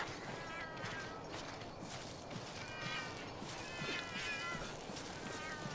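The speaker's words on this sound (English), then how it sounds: "listen to the cats going meow meow meow meow meow meow" Palico cats in the video game Monster Hunter X mew repeatedly in quick, high chirping bursts, a continuous chorus of overlapping meows against game background noise.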